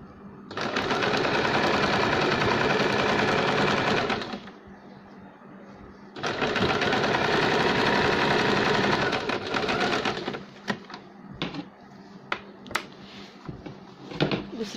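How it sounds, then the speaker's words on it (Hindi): A sewing machine stitches a baby cap in two loud, steady runs of about four seconds each, separated by a pause, followed by scattered clicks and handling sounds. "तो हम यहाँ पे सेंटर रख के इसको सिलाई लगाएंगे।"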